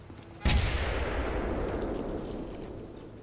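A single heavy blast from combat in the video game Full Spectrum Warrior hits loudly after a short pause, then rolls into a long, fading rumble with no distinct follow-up shots.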